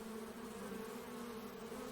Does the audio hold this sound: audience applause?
no